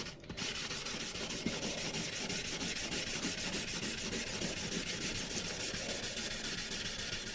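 A tenor ukulele is sanded after a coat of tung oil, a continuous rhythmic rubbing and scratching of abrasive on wood, close and steady throughout, with no talking.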